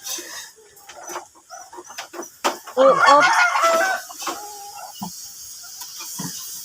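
Fighting roosters kept in coops cluck and squawk close by, with bursts of agitated calling and a crow rising in the middle; a person briefly exclaims once.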